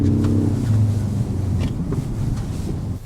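A Ford Ranger Raptor with a 2-litre diesel engine drives off-road across an open field, its deep engine rumble loud and steady throughout with a little wind buffeting.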